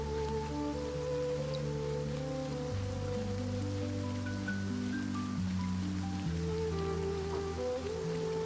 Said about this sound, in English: this is the first time I've seen it raining in my playthrough so far.